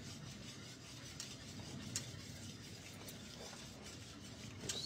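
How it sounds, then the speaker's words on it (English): Butter being stirred into a German chocolate cake filling in a pot, a soft continuous scraping and swirling with a few faint utensil clicks against the pan, steady and close. "Stir my butter in."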